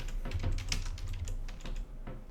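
Soft rapid clicking from a calculation processor machine in modded Minecraft Skyblock, a quiet irregular patter of ticks over a low steady hum.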